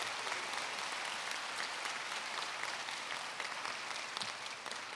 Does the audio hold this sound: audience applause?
yes